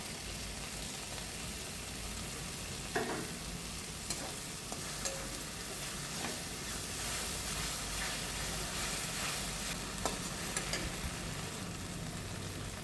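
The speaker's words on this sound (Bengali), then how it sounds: "এবার যে মাছটা আমি বেছে রেখেছিলাম সেই মাছটা আমি দিয়ে দিচ্ছি, দিয়ে ভালো করে কষিয়ে নেব" Loitta fish stir-frying with spices in a pan, a constant dense sizzle and hiss throughout with occasional light stirring clicks, close and steady, with no speech.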